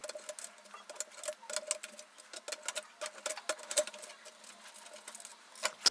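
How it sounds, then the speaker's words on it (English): Pliers gently working loose the nut on a rotary encoder in an Onkyo TX-DS575 receiver, a close, quiet run of rapid metallic ticks and scrapes with small pauses, no voices. "take some strong pair of pliers and then gently undo it"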